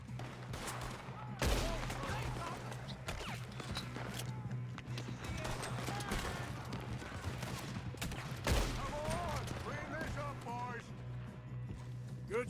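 Red Dead Redemption 2 shootout with sharp, scattered gunshots, a couple of loud close cracks among quieter distant shots, mixed with voices talking and other commotion.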